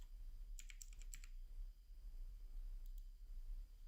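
Two quick bursts of computer keyboard typing, a cluster of rapid clicks early and a brief pair of keystrokes near the end, set against a low steady hum of a quiet room.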